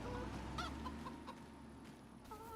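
Chickens in the Farming Simulator 25 video game cluck in short, scattered calls over a steady low hum of farm ambience, with no talking.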